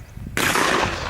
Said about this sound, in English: You're shooting black powder, continue loading, shoot it out.